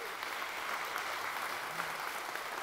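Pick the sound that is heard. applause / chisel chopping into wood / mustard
applause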